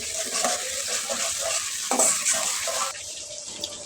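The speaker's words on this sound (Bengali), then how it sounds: "একটা কড়াইতে তেল গরম করে তার মধ্যে কুচিকন করে কেটে রাখা পেঁয়াজগুলা দিয়ে পেঁয়াজগুলাকে আমি ভেজে নিতেছি হালকা করে।" Chopped onions fry in hot oil in a wok, giving a steady close sizzle with intermittent stirring scrapes and a brief louder hiss midway.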